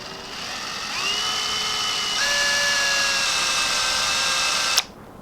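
A small power drill whines steadily as it bores a hole through a tiny ChatterBait fishing lure held by hand. The pitch rises as the motor spins up, then holds a loud, sustained tone for several seconds before stopping abruptly.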